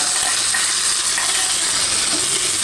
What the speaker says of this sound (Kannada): ಈಗ ತುಪ್ಪದ ಒಗ್ಗರಣೆ ಹಾಕ್ತಾಯಿದ್ದೀನಿ.